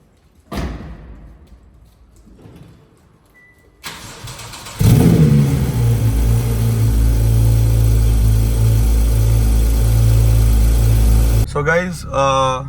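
A Porsche sports car that had sat unstarted for about 20 days is cranked after a few dull thumps, catching into a loud, deep idle that holds steadily before cutting off, with a few brief voices around it.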